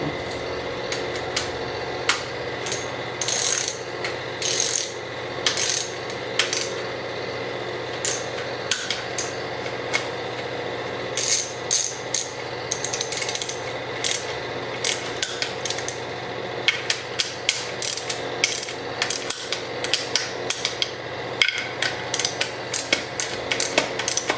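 A torque wrench ratchets while tightening timing chain bolts on a Subaru BRZ, a loud, close run of rapid metallic clicks and clanks that continues in irregular bursts throughout.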